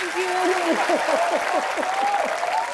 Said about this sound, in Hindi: आप सबकी जोरदार तालियों के बीच ऋचा शर्मा